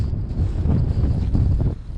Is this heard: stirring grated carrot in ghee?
no